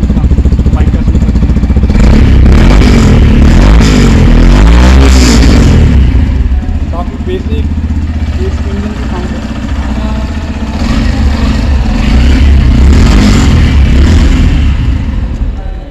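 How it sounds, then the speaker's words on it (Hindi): A 2021 Yamaha FZ-X motorcycle engine idles and then revs hard, the exhaust note rising loud and throaty before settling back to a rumbling idle. "आइए इस बाइक की साउंड एक बार सुन के देखते हैं, एग्जॉस्ट नोट कैसा है इस बाइक का।"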